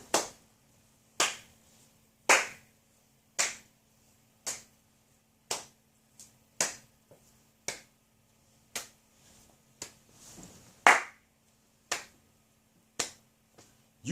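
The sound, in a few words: single person clapping for the Astros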